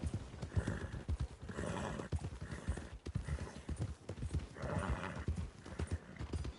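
Horse hooves clip-clop in a steady walking rhythm in Red Dead Redemption 2, close and fairly loud, with faint background ambience and no speech.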